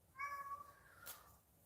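A single cat meows once, a short, fairly faint call over a quiet background hum.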